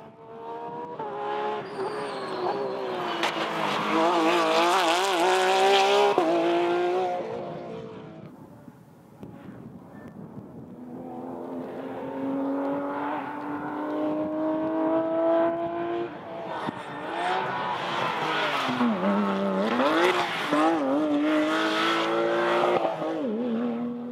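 Race cars roar up the Pikes Peak hill climb, engines revving and shifting gears, loud and close, dipping briefly before another car screams past.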